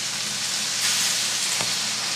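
Beef tenderloin and garlic sizzle steadily in a hot pan as red wine goes in to deglaze, a dense, even frying hiss with a brief louder surge partway through and no voices.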